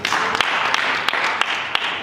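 Congregation clapping hands together at a church fasting and prayer camp, a steady wash of many hands with a few sharper isolated claps standing out at intervals, continuous for about two seconds.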